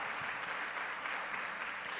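An audience at a Green Team summit morning session claps in a steady round of applause, dense and even throughout, moderately distant.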